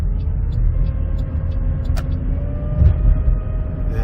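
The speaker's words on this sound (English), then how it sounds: "Yeah, now the car drives." A 2012 Chevy Traverse, repaired after reduced engine power and misfire codes, drives along with a steady low engine and road rumble inside the cabin, a brief thump near the end.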